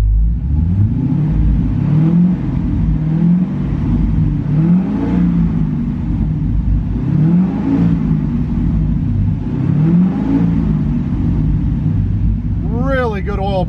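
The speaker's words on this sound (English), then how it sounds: "I'm going to go ahead and rev this up so you can see the oil pressure." A 2005 Chevrolet Corvette engine at operating temperature is revved repeatedly, rising and falling in about five rhythmic swells over a steady idle rumble, close and moderately loud.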